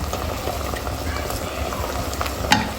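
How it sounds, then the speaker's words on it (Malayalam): Drumstick flower thoran with ground coconut paste being stirred in a pan, a soft continuous sizzle with light scraping strokes and a sharper clink of the spoon near the end, close and fairly quiet. "ഇനി ഇതെല്ലാം കൂടെ ഇളക്കി ചേർക്കും."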